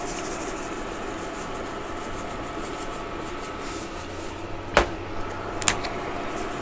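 A whisk stirs salt and pepper through gravy in a pan, a continuous soft scraping swish, with a couple of sharp clinks toward the end.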